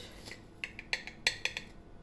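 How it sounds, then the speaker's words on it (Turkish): A single egg being cracked in a home kitchen before whisking with sugar, heard as a series of light, close clicks and taps of shell against a bowl rim, quiet and sharp, with no talk. "Bir tane yumurta kıracağım"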